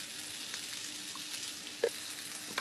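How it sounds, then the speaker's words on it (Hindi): Paneer tikka cooking in a pan being basted with ghee or butter, a quiet steady sizzle with a brief clink near the end, heard close and alone. "और पकने देते हैं। बीच बीच में इसे पलटना है। घी या बटर की बास्टिंग करनी है हमें,"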